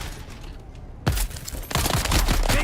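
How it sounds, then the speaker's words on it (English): Gunfire in Dune Awakening erupts after a second of low ambience: a sharp burst, then a sustained loud volley of rapid shots and impacts, close and dense, with no talk. "Shooting at me."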